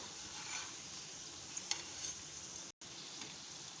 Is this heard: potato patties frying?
yes